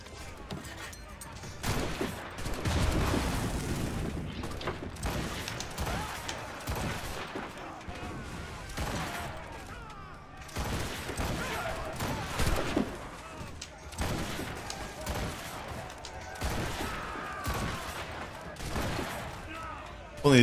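Ship cannons fire in the naval game Assassin's Creed Rogue on Xbox 360: repeated booming volleys and rumbling blasts come in clusters, with a voice talking over them throughout.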